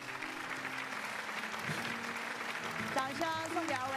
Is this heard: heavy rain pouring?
no